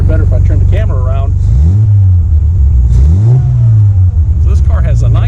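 A 1959 Austin Healey 100-6 with a six-cylinder engine runs at speed, its low engine drone rising and falling in pitch as it revs, heard close and loud beneath someone talking.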